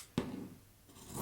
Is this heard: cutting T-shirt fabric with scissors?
yes